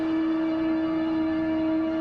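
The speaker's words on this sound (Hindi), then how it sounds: "ये शंख अर्जुन पुत्र अभिमन्यु बजा रहा है।" Abhimanyu blowing a conch shell (shankh) on an ancient battlefield, a single steady sustained tone with rich even harmonics, loud and unbroken throughout.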